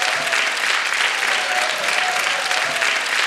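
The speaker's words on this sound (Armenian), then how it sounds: "Եկեք մի հատ ջերմ ծափահարենք մեր մայրիկներին" A stand-up comedy audience gives warm applause in honour of mothers, a loud, sustained roar of clapping from a full room, steady throughout with no talk over it.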